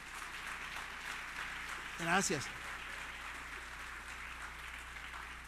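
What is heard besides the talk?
congregation applause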